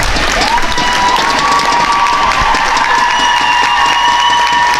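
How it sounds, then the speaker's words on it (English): A crowd at an under-17 netball match between the Isle of Man and Malta claps and cheers steadily throughout, a dense wash of applause with a high whistle-like tone sustained over it. "Give her a clap."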